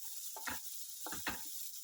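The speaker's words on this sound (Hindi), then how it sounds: "अभी इसमें हम ओनियंस ऐड कर देंगे। ओनियंस को हमें ब्राउन नहीं करना है" Onions being stirred and softened in a hot oiled pan for Mumbai vada pav, a steady faint sizzle broken by two pairs of scraping spatula strokes, close and without talk.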